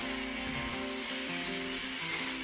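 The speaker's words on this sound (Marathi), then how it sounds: "अशा प्रकारे चम्मचच्या सहाय्याने मी हे बॅटर तव्यामध्ये टाकून घेणार आहे" Wheat flour batter for chilla sizzles on an oiled hot griddle, a continuous close hiss under steady background music.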